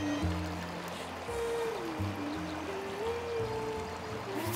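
A stream flows steadily at Gapcheon Noruebeol in Daejeon in spring, a continuous soft rush of water heard under gentle music with sustained tones.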